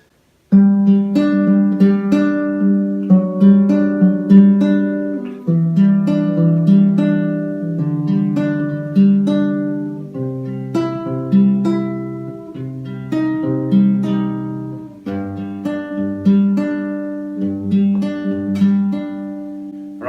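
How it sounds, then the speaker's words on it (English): Acoustic guitar fingerpicking through held chords, a steady flowing pattern of plucked notes with changing bass notes, played close and clear with no talking. "we're holding a chord and we're picking using our fingers,"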